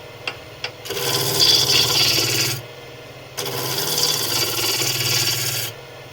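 A rough, rasping scrape of a roughing cutter on a workpiece in two long passes, loud and close, after a couple of brief clicks.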